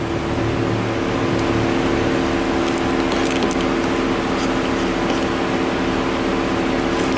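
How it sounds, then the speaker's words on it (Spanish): Several cars idle together in a workshop, making a continuous, steady engine drone with faint mechanical rattles over it. "Suena así porque tenemos varios carros prendidos"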